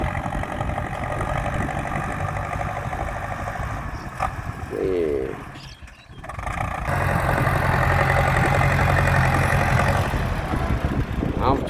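An old-model tractor engine revving hard, a loud close roar that dips briefly midway before surging back to a sustained rumble, with someone speaking over it.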